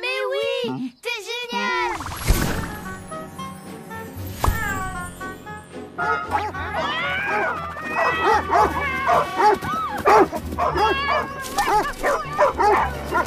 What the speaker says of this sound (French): c'est parce que c'est un chien.